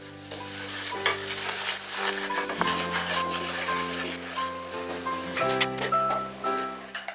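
Turmeric, red chili, coriander and cumin powders fry in oil in a kadai, a close sizzle with stirring and scraping of the spoon against the pan, along with some faint tonal ringing.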